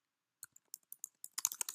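Quiet, close keystrokes on a computer keyboard, a few sparse clicks at first, then a quicker burst of typing near the end.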